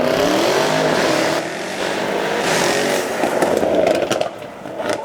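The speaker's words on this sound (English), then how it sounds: "Let's see what it sounds like heading down our main straight in this V8 bi-turbo." A V8 bi-turbo supercar accelerates hard down a circuit's main straight at a supercar weekend, its engine a loud, continuous roar with rising, fluttering harmonics and a brief dip near the end.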